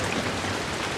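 Rain in the Ratchet & Clank: A Crack in Time video game, a steady, dense hiss of falling water with no break, moderately quiet and heard on its own.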